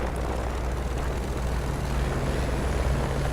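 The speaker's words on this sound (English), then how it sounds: "So you press the Y button to call the chopper" A video-game helicopter arriving after being summoned, its steady, loud rotor-and-engine drone holding close and continuous without any voices.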